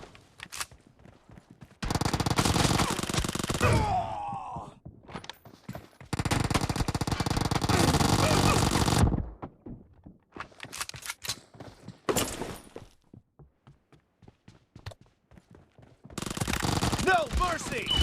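Rapid Uzi submachine gun bursts in the PUBG video game, several long sustained volleys separated by short gaps and scattered single shots, loud and close throughout.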